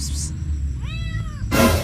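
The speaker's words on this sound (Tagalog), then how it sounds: "Ayun, lumapit pa talaga yung pusa." A cat gives a single clear, rising-then-falling meow at close range in the middle of the moment, framed by bursts of broadband noise before and after.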